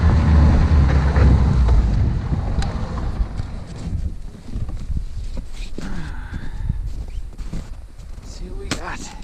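Wind gusts across frozen lake ice at an overnight ice fishing camp, a loud, rumbling buffet on the microphone that eases after a few seconds, with faint scattered knocks and a voice briefly audible.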